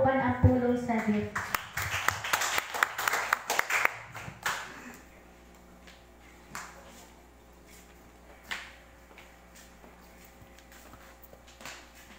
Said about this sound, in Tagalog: pagadalo ni Pastor Sapri Candelario ato siya hatagan sa masipang palakpak uban ang pulong sa Dios.